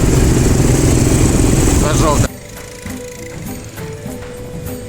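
Buggy engines revving loud and close at a biker club meet-up in Egypt, a rattling mechanical roar that cuts off abruptly midway, leaving a quieter idling rumble and scattered background noise.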